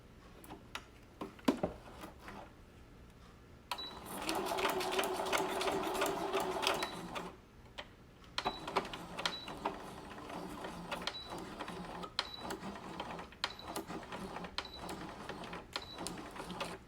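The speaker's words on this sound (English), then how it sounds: "we'll sew this side on and then I'll show you how to sew the remainder of the mask together" Sewing machine stitching a fabric face mask, running in two steady whirring bursts of several seconds each with rapid ticking, separated by brief pauses and quieter handling noises.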